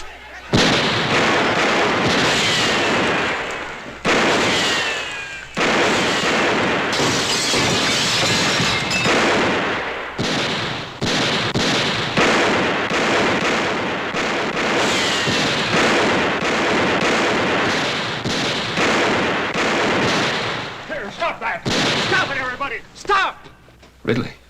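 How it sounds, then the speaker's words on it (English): Gunshots fired over the heads of approaching riders in a Western, a dense run of loud bursts and cracks mixed with shouting voices and hoofbeat commotion throughout. "Let's put a few shots over their heads."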